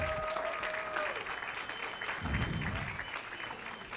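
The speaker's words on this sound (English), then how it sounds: "How about a round of applause for all the fathers" An audience at an auctioneering college graduation ceremony applauds fathers, a steady patter of clapping throughout, with a brief burst of louder, nearer clapping midway.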